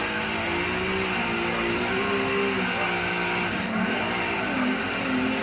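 A race car engine howls in a sim drifting game, sustained and loud with shifting revs and tire squeal as the car slides through a corner.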